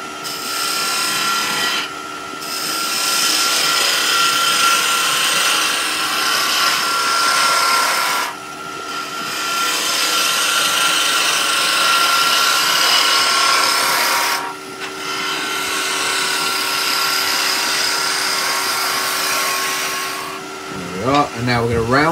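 Skew chisel cutting a spinning wood blank on a lathe, a steady close rasping and hissing cut with a constant motor hum, interrupted by brief pauses between passes.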